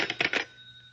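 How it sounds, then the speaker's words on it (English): A telephone bell rings in a short metallic burst of three rapid trills, close and fairly loud, then cuts off, leaving a faint steady hum. "Answer the phone."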